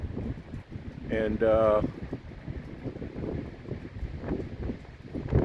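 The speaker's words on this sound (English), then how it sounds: "Now we have a very, very strong wind going today" Strong gusty wind blows steadily outdoors around a dead pine tree, a broad rushing roar with someone talking over it throughout.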